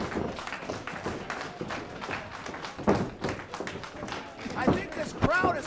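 A wrestling crowd at a Chicagoland Championship Wrestling event roars and claps throughout, dense and continuous, with thumps and sharper bursts of noise near the end and voices mixed into the din.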